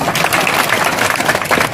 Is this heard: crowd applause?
yes